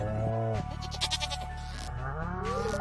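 A goat in the Stardew Valley farming video game gives a series of wavering bleats over a steady musical background, fairly close and clear with no talking.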